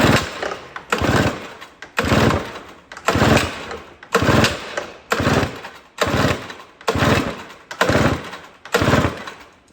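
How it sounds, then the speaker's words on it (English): An old snow blower engine is pulled over again and again without catching, giving about nine regular, loud recoil-start bursts about a second apart. "See if this thing starts up."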